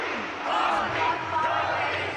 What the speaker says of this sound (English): And look at the cheer.